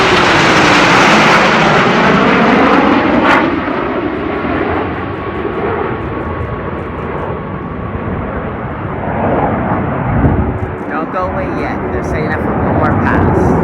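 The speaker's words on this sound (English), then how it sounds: "this pass is the big AERO overhead pass for a flat show rather than a big AERO loop, which changes into big diamond formation." Snowbirds jet formation sweeping overhead in a big diamond at the AERO Gatineau-Ottawa airshow, a loud roaring rush that swells, fades and rumbles on for many seconds, with a voice audible underneath.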